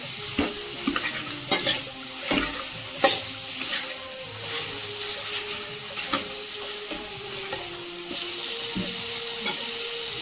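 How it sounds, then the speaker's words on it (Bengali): Fish heads sauté with spices in a pan for a mung dal with coconut, giving a steady sizzle broken by repeated sharp scrapes and knocks of stirring, close and fairly loud throughout with no talking. "এখন দু মিনিট মতো ভালো করে মাথাগুলোকে মশলার সাথে কষিয়ে নেব"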